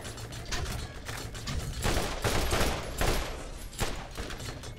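Gatling gun in Borderlands firing in long rapid bursts, a dense rattling fusillade with mechanical clatter, loud and sustained for several seconds with brief swells.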